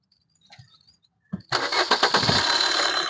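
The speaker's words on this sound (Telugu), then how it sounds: "సింగిల్ సెల్ఫ్ లేదు, బండి స్టార్ట్ అవడం జరుగుతుంది సార్" A 2017 Maruti Brezza VDI diesel engine cranks once and starts on a single press, settling into a loud, steady rattling diesel idle close by after a few faint clicks.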